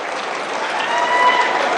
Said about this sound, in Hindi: और एक बार आप सब लोग अपने लिए ताली बजा दें।